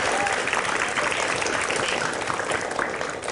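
An audience applauds at a disability-accessibility event in Jakarta, steady dense clapping filling the room, loud and continuous throughout with no voices on top.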